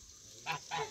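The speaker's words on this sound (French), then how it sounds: "c'est le mâle qui est en train de défendre" A male goose on a farm where geese are kept with ducks honks while guarding his female, two loud, close honks in quick succession.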